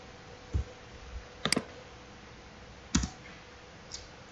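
Keys on a computer keyboard are pressed during a Debian Linux installation, giving a few sharp, isolated clicks spaced apart against quiet room hiss.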